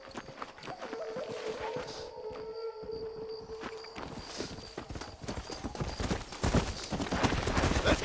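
Horse hooves clip-clop in Red Dead Redemption, a fast irregular drumming of hoofbeats that grows louder and closer toward the end, with brief tonal sounds mixed in over the first half.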